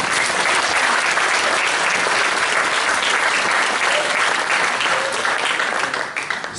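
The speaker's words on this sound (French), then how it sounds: "On peut l'applaudir." Loud, sustained applause from a large audience at a French ceremony honouring a military medal holder, a thick continuous wash of clapping that holds steady and thins slightly near the end.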